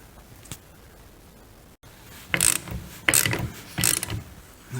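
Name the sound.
ratchet tightening VW Golf mk4 strut top nut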